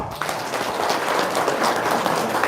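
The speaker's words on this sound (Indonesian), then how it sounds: "Tepuk tangan dulu." Steady applause from a crowd, a dense patter of many hands clapping at once.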